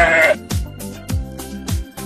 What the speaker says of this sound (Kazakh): Қой,